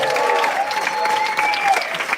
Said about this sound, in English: Give a big round of applause to Nick Till for producing this event over there.